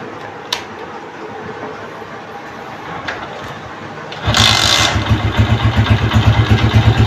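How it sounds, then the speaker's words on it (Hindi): A Honda CG125 motorcycle that stalls right after starting and won't hold a slow idle sits quiet at first, then cranks and catches partway through, settling into a loud, close, steadily throbbing idle. "मेरे पास एक होंडा CG125 मौजूद है, और इसको अभी बाइक को स्टार्ट करेंगे"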